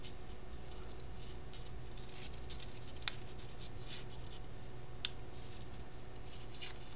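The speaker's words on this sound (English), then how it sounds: "I'm going to fold it down," Handmade paper is folded by hand into a small paper rose, giving faint, soft rustling and creasing throughout with two sharp, brief crackles standing out.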